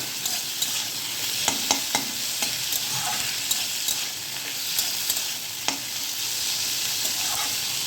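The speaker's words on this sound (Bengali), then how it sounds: "কাঁঠালের বীজ দিয়ে এগুলো আবার একটু নাড়াচাড়া করে নেব" Jute greens and jackfruit seeds sizzle steadily in a pan, with a constant bright hiss and repeated sharp scrapes and taps of a spatula being stirred through them.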